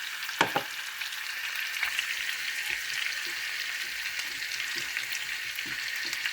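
Butter sauce for copycat Carrabba's Chicken Bryan simmers in a pan with a steady, moderate sizzling hiss, punctuated by a few faint clicks and stirring scrapes, with no voices.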